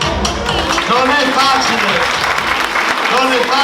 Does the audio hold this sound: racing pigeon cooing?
no